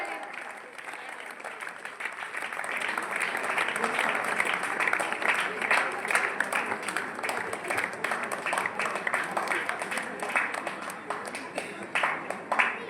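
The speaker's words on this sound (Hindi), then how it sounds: "अवधेश सर का जोरदार तालियों के साथ स्वागत करें।" An audience at a school science exhibition applauds to welcome the chief guest. The clapping is dense, sustained and fairly distant, about thirteen seconds of it, with some voices mixed in.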